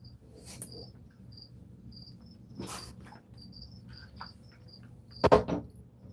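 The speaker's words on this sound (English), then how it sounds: "Crickets are like doing really well now that I moved their cage closer to the heat emitter." Crickets in a cage near a heat emitter give short, high, steady chirps in repeated bursts, close and fairly faint, with a few sharp knocking sounds in between.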